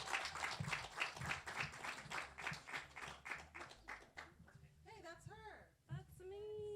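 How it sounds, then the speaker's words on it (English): An open mic audience at a World Poetry Day event claps, a quick run of individual hand claps that thins out as voices and whoops rise over it. "So round of applause."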